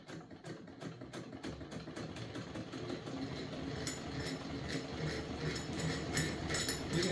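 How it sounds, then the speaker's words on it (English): Hand-cranked Singer 99 sewing machine stitching fabric, a quiet steady clatter of rapid needle strokes at an even pace, close and alone, gradually getting a little louder. "Then turn the hand crank away from you"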